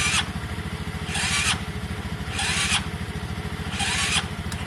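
Kawasaki ER5 motorcycle engine being cranked by its starter with low compression, a steady low churning drone broken by four evenly spaced bursts of louder whirring, close and without speech.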